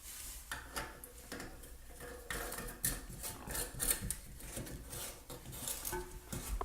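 Nut hand-tightened onto a Fluidmaster toilet fill valve, giving a run of quiet, irregular plastic clicks, ticks and scrapes close by, with small knocks and no voices.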